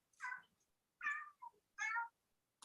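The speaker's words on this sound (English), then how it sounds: "What is that, a cat?" Pet cat meowing three times in short, clear calls spaced about half a second apart, with a small chirp in between, close and alone in a quiet room.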